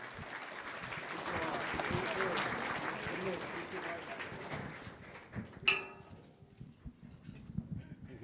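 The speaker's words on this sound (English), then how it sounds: "Please give a round of applause to our first group of inductees." Audience applause at a sports hall of fame ceremony fills a hall with steady clapping for several seconds, then fades as voices talk nearby.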